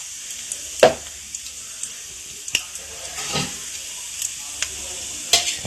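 Tempering spices sizzling in hot oil, a soft steady hiss broken by several sharp spits and crackles at irregular intervals, close and fairly quiet.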